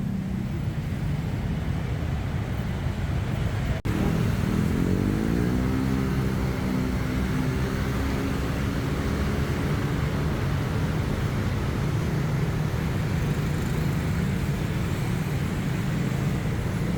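Continuous roar of traffic at a busy Bangkok street intersection with motorbikes, a dense steady rumble of engines with one vehicle passing closer and rising in pitch partway through.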